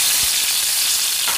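Curry leaves fry in hot oil with okra for a bhindi sabzi, making a loud, steady, close hiss of sizzling with a faint stir near the start.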